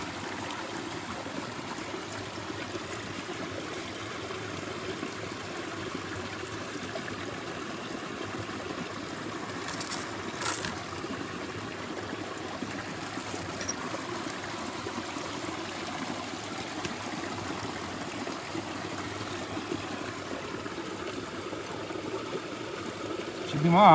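Water flows in a stream below a North Carolina waterfall, a steady close rush and trickle lasting throughout. A brief splash is heard midway.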